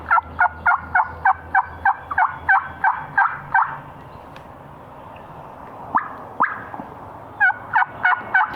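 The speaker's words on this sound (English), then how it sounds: "I believe that's the same gobbler." A wild turkey gobbler gobbles from its roost in a fast run of rattling calls, then pauses, gives a couple of single yelps, and finishes with another quick burst. The calls are fairly close and clear over a quiet background.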